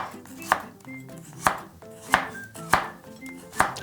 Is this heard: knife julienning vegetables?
yes